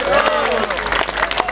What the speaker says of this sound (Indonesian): Tepuk tangan untuk anak-anak muda.